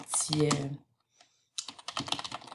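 Typing on a computer keyboard, a quick cluster of clicky keystrokes at the start and another burst after a short pause, close and fairly loud, with no talking.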